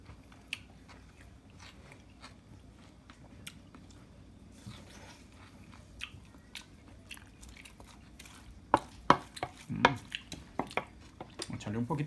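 Quiet chewing while tasting homemade ceviche: soft near mouth noises and faint crunches, growing into a few sharper bites and clinks near the end.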